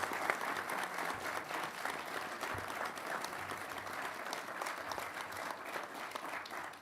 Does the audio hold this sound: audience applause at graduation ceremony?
yes